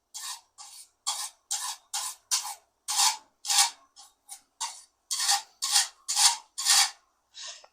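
A metal spatula spreads quick-drying filler into holes in a wall ahead of hanging wallpaper, making a run of short rasping scrapes in an uneven rhythm, close and fairly loud, with no talking.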